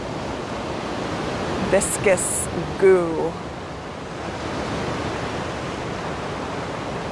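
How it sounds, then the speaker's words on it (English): Water nearby outdoors gives a broad, steady rushing wash like surf or a stream that runs continuously, with a person speaking briefly over it early on. "There's water around, that's helpful because we can take in the sounds of water."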